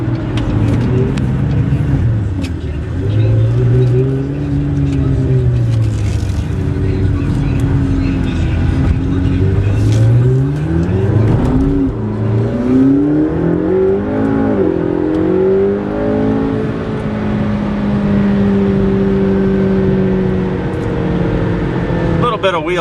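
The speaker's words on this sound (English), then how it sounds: "Bit of wheel slippage there." A 2015 McLaren 650S Spyder accelerates hard with brief wheel slippage, its engine droning loud and close with sweeping rises and falls in pitch while a voice talks over it.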